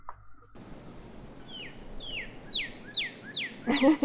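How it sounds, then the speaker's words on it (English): Small birds chirp in a recorded music track: about five quick descending tweets repeat at a steady pace over a constant background hiss, ending in a louder, busier burst. "Birds."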